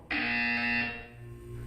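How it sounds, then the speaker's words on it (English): The Portal 2 video game buzzer blares once, a loud, harsh electronic tone that holds for about three quarters of a second before cutting off and leaving a faint hum. "When you hear the buzzer, look down at the floor."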